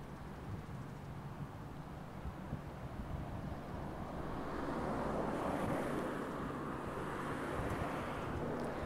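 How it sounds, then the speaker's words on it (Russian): Distant Mediterranean surf at Haifa, Israel, rolls and washes continuously, mixed with gusty wind buffeting the microphone, swelling louder in the second half; no one speaks. "И вот море."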